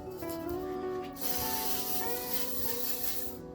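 An aerosol can of WD-40 sprays onto a Bridgeport vise in a steady hiss that lasts about three seconds, close and alone.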